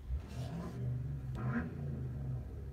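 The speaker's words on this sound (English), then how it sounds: "Some guy just revving something behind me." A car engine revs in the background behind a person, a steady low rumble that swells and dips through repeated throttle blips, fairly distant and muffled.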